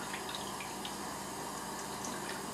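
Running tap water spatters steadily while a makeup brush is rinsed under it at a sink, a soft continuous hiss and splash with no talking.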